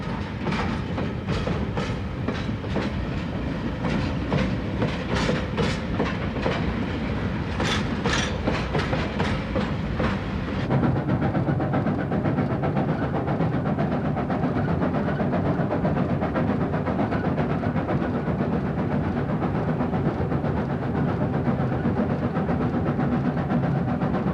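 A special Chinese expedition train of freight cars, passenger coaches and a dining car rolls steadily through the Gobi Desert with rhythmic clickety-clack and a constant engine rumble, close and continuous throughout.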